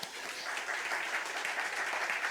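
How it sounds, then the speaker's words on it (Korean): A church congregation at a Sunday service breaks into steady applause, a dense wash of many hands clapping at even loudness for a couple of seconds. "잘했어, 박수."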